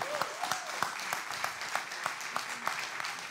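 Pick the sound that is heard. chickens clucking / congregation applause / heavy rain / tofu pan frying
congregation applause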